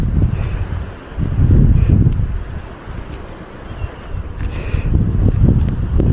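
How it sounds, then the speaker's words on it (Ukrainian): Gusty wind buffets the microphone in loud low rumbling surges that rise and fall, with faint rustling in the background, outdoors by a quarry. "Вітер весь на тебе просто."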